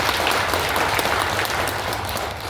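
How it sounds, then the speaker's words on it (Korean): Warm welcoming applause from a church congregation before a Lenten lecture at a parish, a dense, even wash of many hands clapping at a steady level throughout. "환영의 박수 보내면서 강의"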